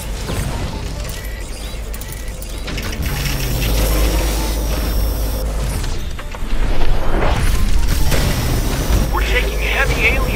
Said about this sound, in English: Charge up the frostbite cannon.